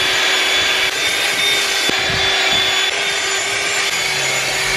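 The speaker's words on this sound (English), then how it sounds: "this little vacuum didn't do what I thought it would do" A small rechargeable handheld vacuum cleaning the inside of a car gives a steady, close whirring hum with a thin high whine, running continuously with no one talking.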